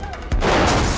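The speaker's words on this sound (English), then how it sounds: "A dangerous pursuit begins as gunfire erupts and both sides fight to survive." Gunfire bursts out during a movie chase scene in which a gang in a massive trailer pursues a fleeing car, a loud sudden blast followed by a dense roaring crackle of shots.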